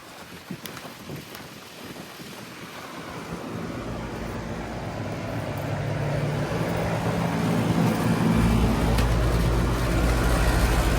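A 2023 Goodman GSZB4 2.5-ton heat pump with a Broad Ocean fan motor runs steadily, its broadband whoosh and low hum slowly growing louder and fuller, with a faint rattle buried in the continuous outdoor-unit noise.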